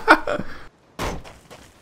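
A door closing in the survival game DayZ, one solid slam-thunk that cuts off after a short voice, followed by another heavy knock and some talk.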